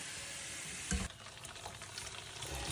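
Vettu palakaram dough pieces frying in hot oil, a soft continuous sizzle and bubbling heard fairly quietly, with a short clunk of a utensil near the one-second mark and no voices.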